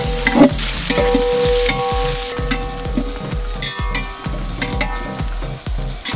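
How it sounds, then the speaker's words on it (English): Bay leaves and cinnamon sticks sautéing in a large pot of chicken biryani, a loud continuous sizzle with regular rhythmic scraping strokes of a ladle, close up and without voices. "Bay leaves, cinnamon sticks. Now let's saute it."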